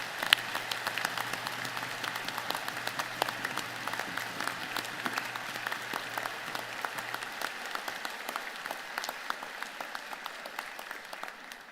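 Sustained applause from a university convocation audience, dense steady clapping filling the hall at moderate volume, continuing evenly throughout with no speech over it.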